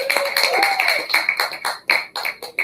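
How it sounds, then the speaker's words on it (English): A comedy-show audience claps in uneven bursts of scattered hand claps, while a voice whoops or calls out over them. "Marty, clap it up, guys"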